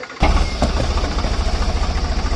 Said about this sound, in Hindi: तो अभी एक ट्रैक्टर लग रहा है और एक ट्रैक्टर यहाँ है।